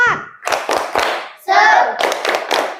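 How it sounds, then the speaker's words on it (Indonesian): A school class doing a rhythmic spirit clap in a classroom: sharp group claps in a quick pattern mixed with chanted voices. "Sebelumnya kita tepuk semangat dulu"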